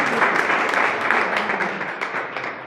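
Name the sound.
applause for the women in the audience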